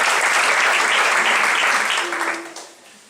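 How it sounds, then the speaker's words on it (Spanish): Audience applause fills a breakfast gathering for married couples, loud and steady for about two seconds before thinning out and fading, with a brief voice near the end. "Un aplauso, por favor."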